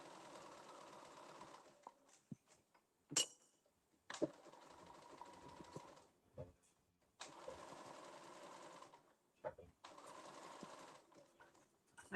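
A sewing machine running a topstitch on a witch hat: close, whirring runs of rapid stitching in several bursts, separated by pauses with small clicks and handling noises.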